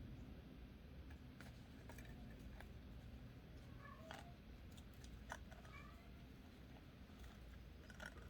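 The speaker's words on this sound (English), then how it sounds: "If you can hear a meow" A few faint, brief cat meows rise now and then over a steady low background hum, quiet and somewhat distant.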